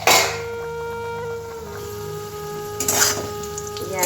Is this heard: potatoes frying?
yes